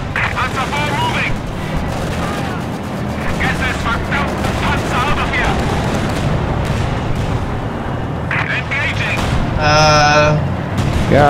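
Tank cannon and small-arms gunfire in a Company of Heroes 2 battle with a Panzer IV, dense continuous booms and shots throughout with a louder burst near the end, under game voice lines and player chatter.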